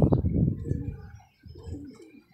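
A homing racing pigeon that has just returned coos close by, a soft, low, throaty burst followed by a brief gap and a second gentle coo.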